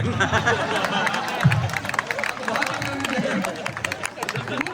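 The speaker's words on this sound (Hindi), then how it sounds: "वो लड़के ताली बजा रहे हैं" A crowd at a Hindi poetry recital in Udaipurwati claps in a dense, uneven patter with crowd murmur, continuous across the whole stretch at a fairly loud level.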